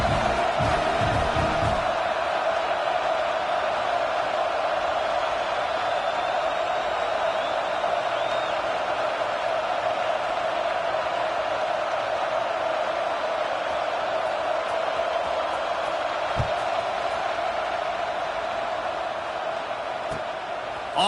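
A stadium crowd roars steadily in the College Football 25 video game, a dense, loud wash of distant cheering that holds for about twenty seconds with a few brief thumps.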